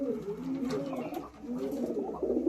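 High Flying Madrasi pigeons in a loft at Uluberia, Howrah, coo in low, soft, rolling throaty phrases that overlap steadily, close by, with no talk over them.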